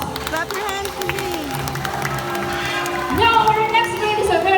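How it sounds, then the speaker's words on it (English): An audience at a Cebu safari bird show claps for the flying macaws beneath an announcer's speech. The applause grows louder and denser toward the end. "A round of applause for flying macos. Clap your hands for me."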